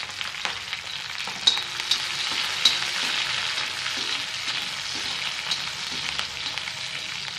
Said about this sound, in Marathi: त्यामध्ये आपण ही बारीक चिरलेली हिरवी मिरची ॲड करणार आहोत